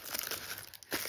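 Crinkling plastic of a surprise packet being torn open during a doll unboxing, a brief close rustle and crunch with a sharper tear near the end.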